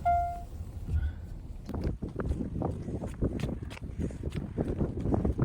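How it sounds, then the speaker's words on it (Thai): Strong wind buffets the microphone in heavy low rumbling gusts, with footsteps and movement underneath and no talking. "ลมแรงมาก"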